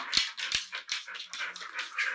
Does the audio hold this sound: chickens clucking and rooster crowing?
no